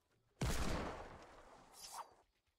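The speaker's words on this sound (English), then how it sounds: "you can one-shot it with your hand cannon" A hand cannon fires in Fortnite v6.20, its shot aimed at a brick wall. One loud, sudden blast with a long rumbling decay is followed by a smaller, softer burst near the end.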